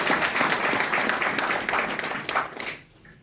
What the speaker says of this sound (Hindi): वेरी गुड, इनके लिए तालियां।